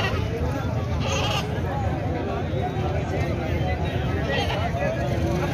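Goats bleat at a busy livestock market in Sahiwal, where kids are sold alongside breeding stock. The calls are steady and mid-distance, mixed into continuous crowd chatter and people talking throughout.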